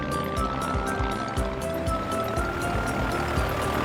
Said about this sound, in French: L'hydravion s'est posé sur l'eau.